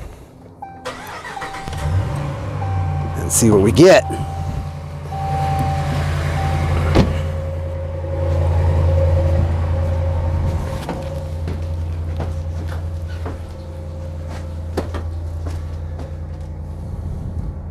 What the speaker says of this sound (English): So let's fire up the truck